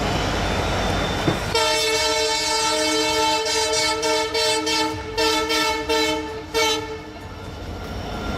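Aravalli Express passenger train rolling past close by, its horn sounding in several long sustained blasts over steady rumbling wheels and rail clatter, with no talking.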